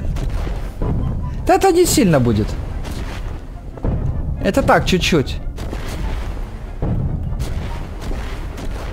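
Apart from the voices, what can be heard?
explosions in the air in Garry's Mod video game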